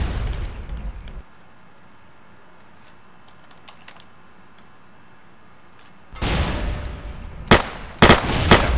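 An exploding robot in Fallout: New Vegas: after a near-silent stretch, loud game combat erupts, with several sharp explosive bangs and crashing bursts close by in quick succession.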